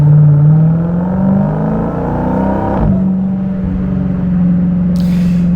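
A Dodge Hellcat Jailbreak engine drones loud and steady from inside the cabin, its pitch climbing gradually as the car accelerates, with a brief shift in tone midway and no talking.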